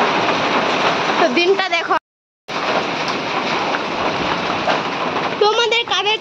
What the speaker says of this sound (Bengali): আমাদের এদিকে তো বৃষ্টি একটু একটু পড়তেছে, আর পাথর তো পড়তেছে ভালোই।